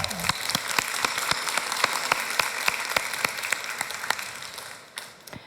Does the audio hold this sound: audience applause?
yes